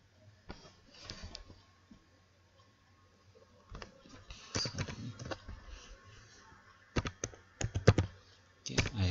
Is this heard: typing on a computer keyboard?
yes